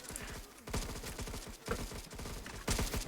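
Quick bursts of gunfire in the Roblox Squid Game, rapid repeated shots in close clusters with brief gaps and a voice faintly underneath.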